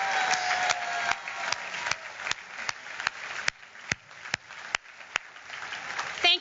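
Scattered applause from a modest crowd at a youth sports awards event, with a handful of distinct sharp claps standing out in a loose, uneven rhythm.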